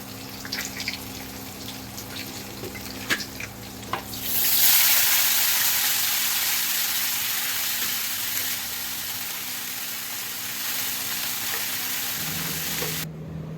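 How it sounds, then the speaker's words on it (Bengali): Cabbage fries in oil with cumin and green chili: a few quiet clinks at first, then a sudden loud burst of sizzling that settles into a steady hiss to the end, with no talking. "জিরে দিয়েছি আর তেলেতে কাঁচা লঙ্কা দিয়েছি কাঁচা লঙ্কা দিয়ে বাঁধাকপি ভাজা বেশ ভালো লাগে"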